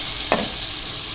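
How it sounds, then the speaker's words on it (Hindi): Chicken pieces frying with spices in a pot: a steady hiss of sizzling oil with a single quick stirring scrape partway through. "चिकन को आपने भूनना लाजमी है"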